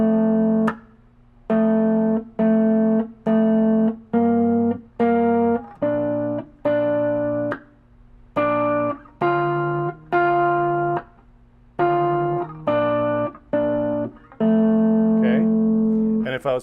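An electric guitar plays a riff with a clean, plucky tone. Rhythmic chord stabs are separated by short breaks and repeat steadily throughout at close range, with no speech.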